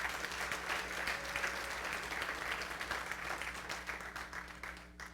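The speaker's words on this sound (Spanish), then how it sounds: "Dale palmas al Señor en esta noche" A church congregation claps for the Lord during an evening service, a faint, continuous spread of many hands that tapers slightly toward the end, over a low steady hum.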